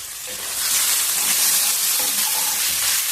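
Chicken pieces sizzle steadily in a pan while a gongura chicken curry cooks, a dense, close, continuous frying hiss with no talk.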